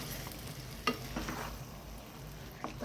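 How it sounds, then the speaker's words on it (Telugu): Fish pieces being stirred through masala in a hot pan for tamarind fish curry, a steady low sizzle broken by a few scraping spoon strokes close by. "ఈ మసాలా అంతా ముక్కలకు పట్టేటట్టు కలపాలి."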